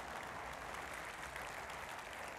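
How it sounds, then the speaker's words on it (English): A convention audience at EVE Fanfest 2013 applauds steadily, a dense, even wash of many hands clapping heard from within the hall, with no talk over it. "The art team will be super happy to hear you guys applauding for them"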